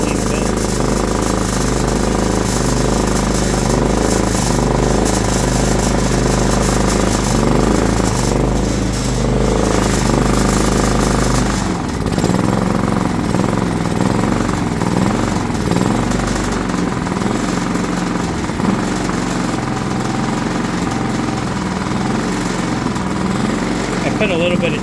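Predator 3500-watt inverter generator running steadily with a little choke applied, a loud continuous engine drone with rattling texture that shifts slightly partway through, with talk over it.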